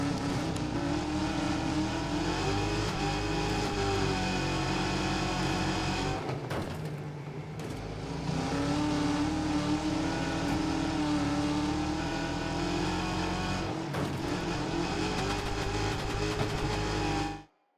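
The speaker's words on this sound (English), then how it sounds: "We'll ride on board for a lap with David Final Form" Race car engines roar through a lap in the Wreckfest 2 video game, loud and sustained with rising and falling revs, two brief drops around gear changes or braking, and a sudden cut to silence at the end.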